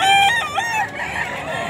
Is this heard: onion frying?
no